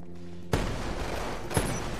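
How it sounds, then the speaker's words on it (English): Gunshot in a split-screen video game: a sharp, loud crack cuts in abruptly and leaves a sustained noisy wash, with a second, fainter report about a second later. "He shot me."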